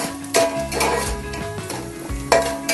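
Onions and carrots sauté in a pan for noodles, a steady sizzle with a couple of louder stirring scrapes, while melodic background music plays throughout.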